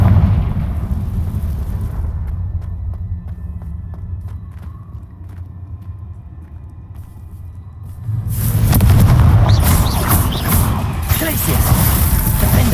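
A Confringo fire spell explodes in Hogwarts Legacy: a loud, sudden burst of blast noise near the end after quieter rumbling combat sounds, then a sustained roar that fills the rest of the moment.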